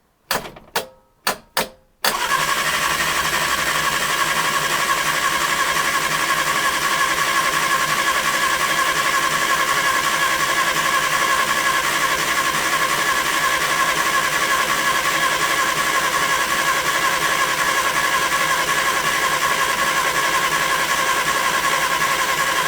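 An old Reliant Regal engine is cranked with the ignition key: a few short starter bursts, then a long, steady, loud mechanical whirr of the engine turning over without firing.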